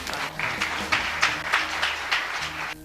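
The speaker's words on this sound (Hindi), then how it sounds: "इसलिए बहन को जोरदार तालियों से।" An audience at a Ram and Ramayana quiz competition claps together in a steady, rhythmic beat. The applause is fairly loud and sustained and fills the room for nearly three seconds.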